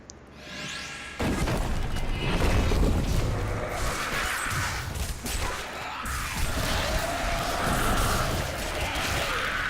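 Monk's exploding palm detonates in Diablo 3 combat, a sudden loud crashing burst that rolls into a dense, sustained clatter of booms and impacts with no speech.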